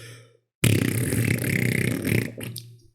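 A voice imitates a giant orange balloon deflating, producing a long, loud, buzzing fart-like raspberry that sputters for about two seconds after a short silence, then trails off with a few fading blurts.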